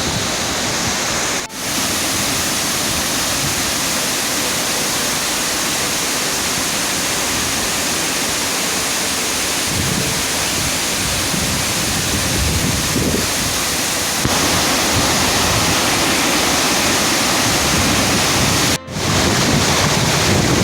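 A waterfall pours into a forest pool in a loud, unbroken roar of rushing water that fills the whole scene, close and steady, with no voices heard.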